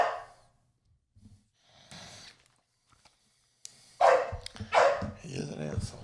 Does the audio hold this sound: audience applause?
no